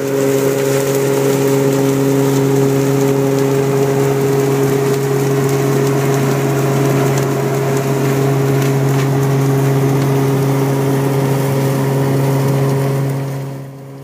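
Pecan harvester running in an orchard, blowing sticks, leaves and dust aside while a conveyor belt carries nuts up into a wagon, a loud constant engine and fan drone with steady hum, close and unbroken, fading at the end.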